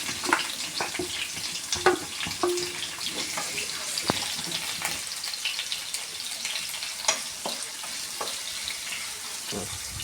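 Sliced onion and green chilies frying in a pan for dal curry, a loud continuous sizzle with scattered clicks and utensil knocks close by, and a faint voice in the background.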